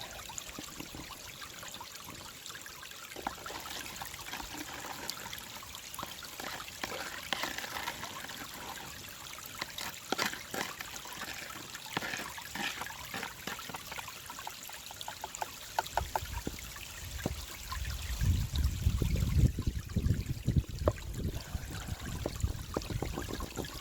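Water trickling and rushing through a small gold-prospecting adventure sluice as fine concentrates are fed in slowly, a steady close splashing flow that swells with a low gurgle toward the end.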